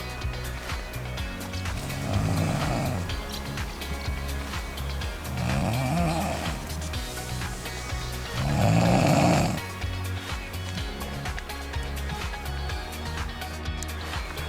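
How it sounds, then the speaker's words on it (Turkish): Three loud, drawn-out snores from people sleeping at a campsite in Assos rise out of a steady low background hum, spaced a few seconds apart like slow sleeping breaths. "Bizim tayfadan da zaten horlama sesleri geliyor."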